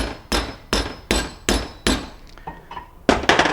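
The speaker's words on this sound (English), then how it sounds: "We tap that with the soft hammer to snap the shims open and get rid of air that's trapped underneath the shims." A soft hammer taps an off-road shock absorber during a revalve, landing about eight sharp, ringing strikes in a steady rhythm with a few lighter clinks between them, close and loud.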